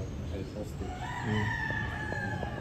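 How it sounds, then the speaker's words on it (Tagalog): A chicken clucks and calls indoors, with a rooster-like crowing note rising over a murmur of background voices. "bakit may manok sa loob ng bahay"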